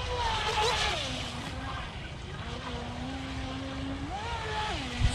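A Wltoys WL916 Swordfish 3s brushless RC boat runs across water at full throttle and full lock, its high motor whine holding steady and rising and falling in pitch as it turns, over continuous water noise.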